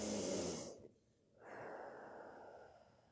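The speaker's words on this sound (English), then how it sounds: "Breathing from your belly or your diaphragm helps to calm and soothe." A person demonstrates deep belly breathing from the diaphragm. A strong breath is followed by a brief pause, then a long, softer exhale, heard close with no talking.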